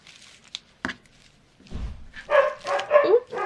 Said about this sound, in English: there's the doggies barking because somebody shut the door